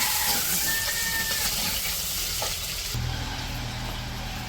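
Onions fry in hot oil in a wok in a village kitchen, giving a steady, close sizzle that hisses on throughout.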